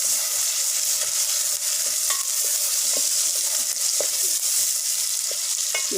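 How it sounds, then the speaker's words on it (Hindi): Onions fry in a pan for aloo methi, giving a steady, loud sizzle with occasional small stirring clicks and no talking. "ये प्याज फ्राई हो रहे हैं।"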